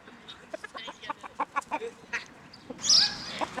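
A bantam-cross rooster clucks in a rapid series of short, close clucks, ending with a louder, drawn-out squawk.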